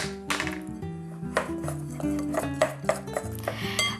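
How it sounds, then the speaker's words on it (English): A spoon mixes smooth peanut butter into honey in a bowl, with light clinks and scrapes against the sides over a steady musical background. "a 1/4 cup of smooth peanut butter, which I'm going to mix together with the honey"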